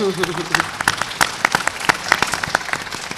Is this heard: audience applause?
yes